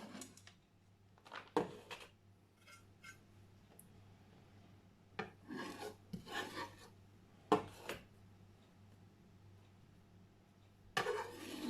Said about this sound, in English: just to pass it through the grater too